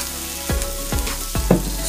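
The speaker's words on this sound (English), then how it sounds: "Stir fry oil, my best friend today." Oil sizzles steadily in a hot pan as Korean short ribs are stir fried, with three sharp tossing bursts of louder crackle roughly half a second apart over a constant frying hiss.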